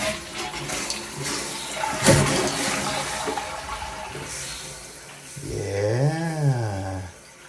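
A toilet in a basement of a 100-year-old house with newly roughed-in plumbing is flushed, giving a loud swirling gush that settles into the hiss and trickle of the tank refilling nearby, with no one speaking.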